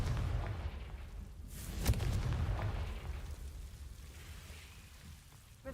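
A Confringo fire spell from Hogwarts Legacy bursts with one sharp blast, then a low rumbling boom rolls on and fades over several seconds.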